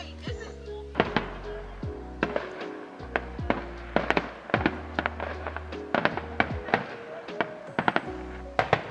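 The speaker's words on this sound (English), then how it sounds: "We got some firework action by the hotel." Fireworks go off in a steady series of sharp bangs and pops over a low droning hum, continuing throughout.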